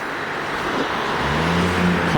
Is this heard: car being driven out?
yes